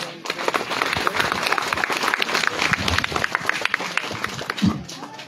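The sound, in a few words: audience applause for Khrist and Chandrika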